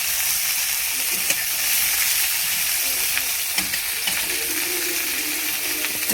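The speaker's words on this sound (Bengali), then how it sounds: "সবজিটা ভাজা ভাজা হবে, একটু ঢেকে দিচ্ছি।" Mixed vegetables fry in a pan with a steady, close hiss of sizzling oil, broken by a few light clicks and scrapes of a utensil.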